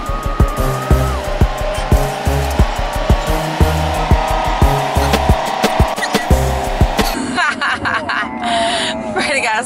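A car cruises through town traffic at about 45 miles an hour, its steady engine and road noise running close and loud beneath thumping music and voices throughout.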